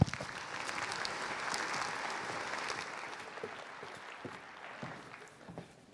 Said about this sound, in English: So we can give him a big round of applause